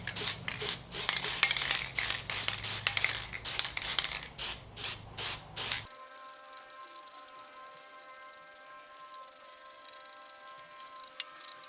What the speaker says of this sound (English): Using the Rust-Oleum high heat spray paint